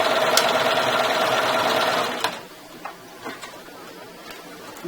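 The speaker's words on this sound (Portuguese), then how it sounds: "ao mesmo tempo que a máquina puxa, eu ajudo ela a puxar o tecido" A sewing machine stitches fabric for a half-moon zippered pouch, running in a steady, close, rapid whir for about two seconds before stopping, followed by a few light clicks.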